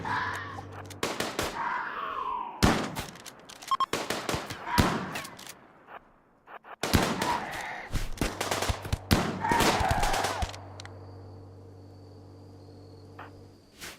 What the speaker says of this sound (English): Everybody else is shooting.